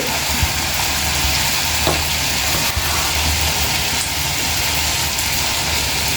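Bottle gourd vadas frying in hot oil over a medium flame, giving a steady, close sizzle and crackle that runs evenly throughout with no talking.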